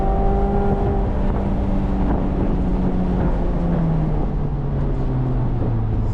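A Mazda Miata ND3 engine revs hard toward redline while cornering, loud and continuous with rising then falling engine tones under heavy wind buffeting from an open cabin.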